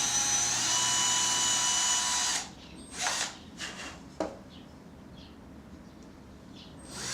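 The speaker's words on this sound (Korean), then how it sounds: "그리고 최신형 무선 드릴로 구멍을 뚫어 줍니다" A new cordless drill bores position-mark holes in a ukulele fretboard, whining steadily at a high pitch for a couple of seconds before stopping, followed by a few short bursts of drilling and a sharp tap, close and without talk.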